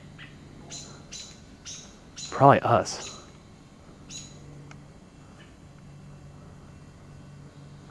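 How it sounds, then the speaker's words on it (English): Repeated sharp, raspy bird calls in quick bursts, fairly close, with a louder double squawk in the middle and a brief spoken remark. "And a very agitated bird."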